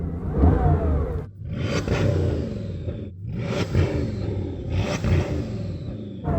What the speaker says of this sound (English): Go on, rev it then. Let's hear the revs.